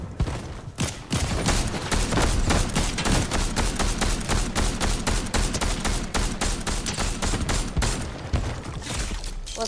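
Dense, continuous automatic gunfire from the Fortnite video game, a rapid barrage of close, loud shots with a few brief gaps, carrying on for several seconds without speech.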